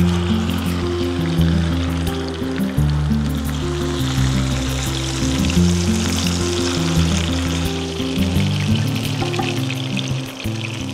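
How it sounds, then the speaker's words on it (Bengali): Chicken deep-fries in a generous amount of sunflower oil, a loud, dense and continuous bubbling sizzle that holds steady throughout beneath background music. "চিকেনটা আমরা ডিপ ফ্রাই করছি"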